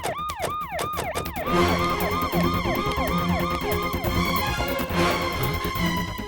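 A wailing siren sweeps up and down repeatedly over a busy, loud music-like backdrop, rising and falling in steady cycles throughout.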